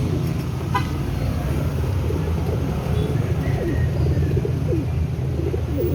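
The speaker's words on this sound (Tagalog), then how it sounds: "Daming kalapati guys." Pigeons coo in low, throaty murmurs, several birds at once, against a steady background of road traffic.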